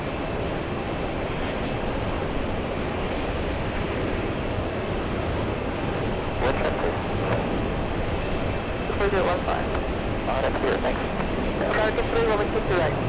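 Cape Air Cessna propeller plane arriving at JFK airport: a continuous engine drone sits under a steady broadband roar, with a voice talking over it at points.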